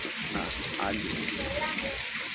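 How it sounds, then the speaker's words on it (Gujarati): Heavy rain pouring down on farm fields, a dense steady hiss of water close by that runs through the whole stretch with no break. "કેટલો વરસાદ છે"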